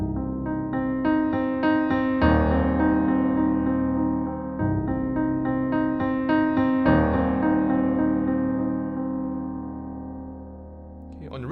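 Piano plays a flowing phrase of melody over accompaniment that swells in loudness and then softens, repeated twice with sustained notes ringing, close and solo, ending with a brief thump.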